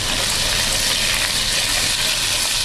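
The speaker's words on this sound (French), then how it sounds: "Là, on va ajouter les tomates cerises." Cherry tomatoes go into a pan of eggplant frying in fat, giving a loud, steady, close sizzle with no pause and no talk.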